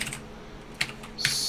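A few quiet keystrokes on a computer keyboard while entering a git command, with soft isolated clicks spaced apart and no talk over them.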